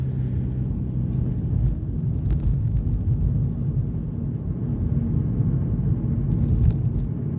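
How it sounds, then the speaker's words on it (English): A car passes close beside a Kia Forte driving on an Austin, Texas road, heard as a steady, loud low road rumble and engine drone from inside the cabin, with no speech. "Man, that car is close to us."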